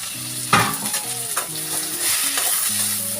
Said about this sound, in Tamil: வெங்காயம் வந்து பொன்னிறமும் வதங்குற அளவுக்கு வதக்கணும்